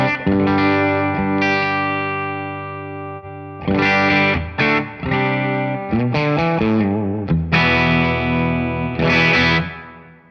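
Electric guitar played through a captured Suhr Bella amp at its 44 watt setting, with boost, giving loud distorted chords and sustained notes with short pauses, no talking.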